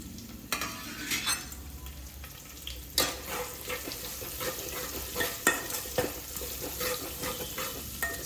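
Garlic, cumin seeds and curry leaves fry slowly in a pan with a close, continuous sizzle, broken by repeated sharp spoon knocks and scrapes against the metal while the mix is stirred.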